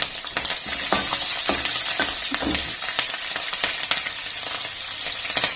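Green chilies fry in a pan while being stirred for aloo upma curry, a loud, close sizzle with frequent crackling pops and scraping strokes throughout.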